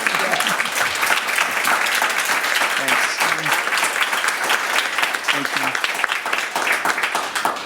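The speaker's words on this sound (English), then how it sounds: "So now we can applaud." An audience at a county board of supervisors candidate forum breaks into dense, sustained applause, with faint voices mixed under the clapping throughout.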